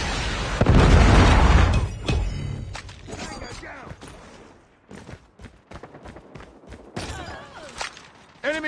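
A predator missile strike in Call of Duty Mobile lands as a loud, close explosion with a booming burst and rumbling tail, followed by scattered clatter and gunfire, with voice callouts in the mix.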